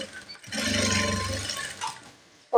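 A sewing machine runs in one steady burst of about a second and a half stitching a churidar neck, a close whirring hum that starts and stops cleanly with a brief click afterward.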